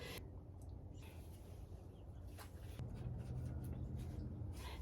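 A marker writing a label on a small plant tag and a strip of duct tape, a quiet scratchy run of pen strokes and rubbing at close range.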